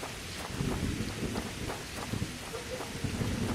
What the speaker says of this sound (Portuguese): O som da chuva tá muito bonito